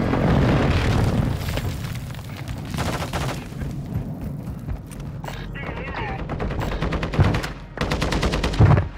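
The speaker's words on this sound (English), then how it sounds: "Friendly airstrike in the AO" Friendly airstrike in Call of Duty Modern Warfare II, a loud, sustained run of booming explosions and rapid gunfire rattling over several seconds, with heavy impacts near the end.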